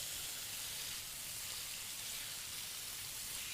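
Lemongrass chicken crisping skin-side down in a hot pan, giving an even, close sizzle that hisses without a break.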